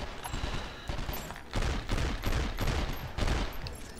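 Rapid machine gun fire in the PlayStation 2 game 24: The Game, several sustained bursts of automatic shots at moderate distance with no talking.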